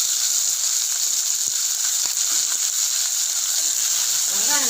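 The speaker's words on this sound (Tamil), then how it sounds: "வெங்காயம் நல்லா பொன்னிறமாக வர வரைக்கும் வறுக்கணும்." Sliced onion frying with salt in a pan for a curry leaf kuzhambu, giving a loud, continuous bright sizzle and hiss that holds steady throughout, with faint scattered crackles and a few faint voices underneath.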